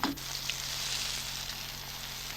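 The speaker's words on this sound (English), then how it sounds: "You can hear the pancakes sizzle." Steady, bright sizzling of pancakes frying in a hot pan, a continuous close hiss with no voices.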